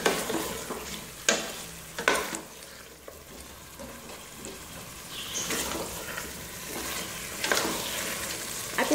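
Chicken pieces frying and being stirred in a pan for chicken handi gravy, a steady sizzle broken by repeated scraping stir strokes and clinks, close and fairly loud, with no talking.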